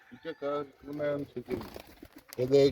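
Pigeons coo at a rooftop pigeon farm, with repeated low throaty coos in short bursts close by and a few soft rustles between them.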